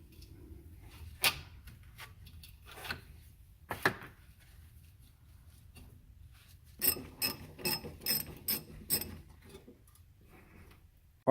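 Hand ratchet working on the axle vent line of a 1964 Mustang, scattered clicks followed by a quick burst of several ratcheting clicks, close and quiet with no talking.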